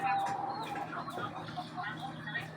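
A rooster clucks softly in a quiet rural yard, a few short low calls heard faintly at some distance with light background noise.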